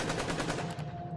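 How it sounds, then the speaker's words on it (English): Rapid automatic gunfire from soldiers at a protest, a dense continuous rattle of shots at middle distance that blurs into one sustained burst. "Gunshots interrupted their thoughts, and panic set in."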